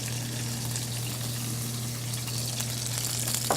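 Onion hits a hot frying pan and sizzles, giving a steady hiss and crackle that continues without a break for a few seconds, with a low kitchen hum underneath and no talking.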